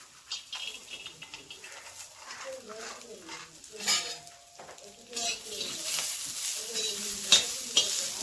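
Garlic cloves and peanuts roast in a pan over a wood-fired stove, giving a faint, crackling sizzle broken by scraping stirs and light clinks of a spoon against the pan.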